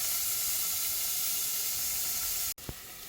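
Crushed garlic and small shallots sizzle and fry steadily in a pan for chicken soup, a continuous bright hiss that cuts out briefly near the end before resuming faintly.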